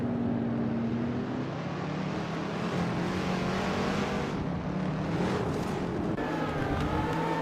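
A 1964 Shelby Cobra 427 and other race cars driven in a video game, a steady loud engine drone with shifting pitch as the cars accelerate and pass, continuous throughout with no talk.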